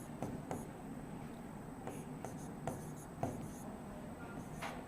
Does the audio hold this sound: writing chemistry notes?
yes